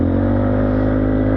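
Engine of a 200cc quad held at a loud, steady high rev, a sustained droning hum up close with no talking.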